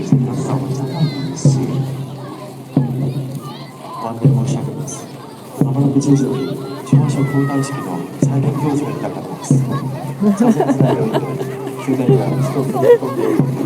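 Crowd of tourists chattering at Gyeongbok Palace in Seoul, a dense, continuous babble of many overlapping voices close around, with louder nearby talkers surfacing now and then over the steady hubbub.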